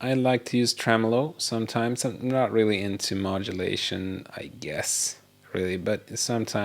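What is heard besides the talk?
No everyday noises stand out.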